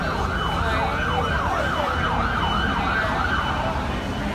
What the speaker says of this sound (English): More ambulances are arriving now.